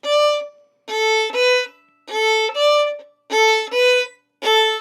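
Fiddle plays the second half of the A section of Auntie Mary, four short bowed phrases of paired notes with quick gaps between, bright and close, alone without voices.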